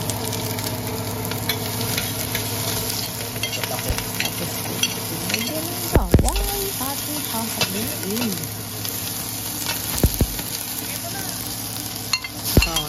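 Garlic, along with onion and ginger, sizzles and crackles steadily in a frying pan for Philippine congee, with occasional scrapes and clinks of a stirring utensil, close and continuous with no talk.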